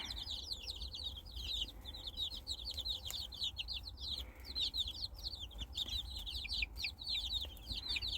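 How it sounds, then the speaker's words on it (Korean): Many chickens and about two dozen chicks cluck and cheep busily together, a steady chorus of high chirps over low background rumble with no talking. "24마리나 돼요, 병아리들이"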